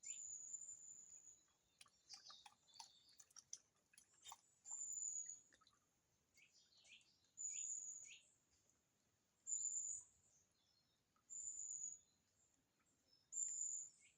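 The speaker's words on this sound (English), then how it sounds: "now the birds are coming. I can hear a woodpecker as well" Faint, distant birdsong by a stream: a high call repeating about every two seconds in a quiet outdoor setting, with scattered soft chirps and light woodpecker taps in between.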